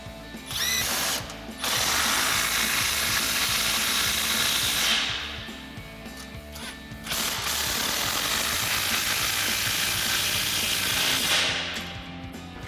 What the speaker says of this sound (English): Now we can tighten down our muffler outlet pipes